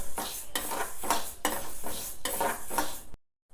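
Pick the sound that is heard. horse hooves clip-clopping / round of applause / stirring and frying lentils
stirring and frying lentils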